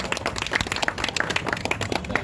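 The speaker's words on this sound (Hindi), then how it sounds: "बहुत मुबारकबाद, तालियों से स्वागत किया" Applause welcoming new members joining the Congress party at a political event: scattered, uneven clapping from a modest crowd, close and lively, with no clear speech over it.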